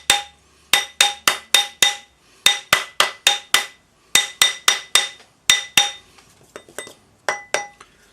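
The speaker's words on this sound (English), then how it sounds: "Put it on your ring mandrel, round it up using the rawhide hammer." A rawhide hammer rounds a metal tool-handle ferrule on a ring mandrel, striking in quick bursts of four or five bright, ringing metallic taps with short pauses, loud and close, with lighter taps toward the end.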